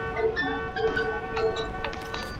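A train horn in the video game Warzone sounds in steady, sustained honks with brief pulses, over a busy game backdrop.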